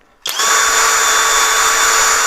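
A LUDYVI BL2000 cordless impact wrench switches on in reverse and runs at a steady, loud, high-pitched motor whine close by, sustained without pauses after an abrupt start.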